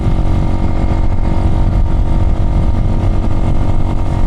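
A Chinese motorcycle with its rear sprocket swapped from 52 to 45 teeth rides along in traffic at about 55, its engine droning steadily and loud close up, with a constant rumble that never lets up.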